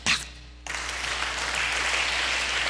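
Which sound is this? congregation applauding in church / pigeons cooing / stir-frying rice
congregation applauding in church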